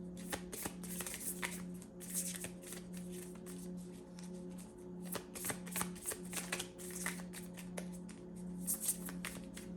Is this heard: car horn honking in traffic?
no